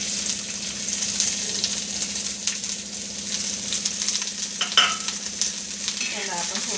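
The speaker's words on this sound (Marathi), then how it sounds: "चला तर आपण याच्यामध्ये थोडंसं तेल टाकूया आणि हे चिरलेले कांदे टाकूया त्याच्यामध्ये." Chopped onions sizzle and fry in hot oil in a pan, a steady close crackle with occasional stirring scrapes, no voices over it.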